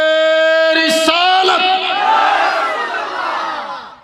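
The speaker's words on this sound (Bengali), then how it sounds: "আমরা একবার নবীর স্লোগান দেব" A large gathering at a Bangla religious sermon shouts a slogan in praise of the Prophet, a loud massed roar of many voices that rises after a single lead call and sustains to the end.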